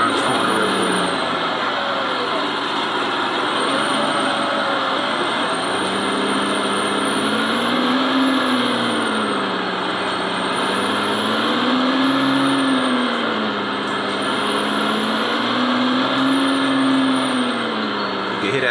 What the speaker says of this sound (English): You can hear that turbo going.